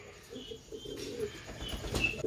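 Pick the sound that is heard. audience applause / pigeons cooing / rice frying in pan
pigeons cooing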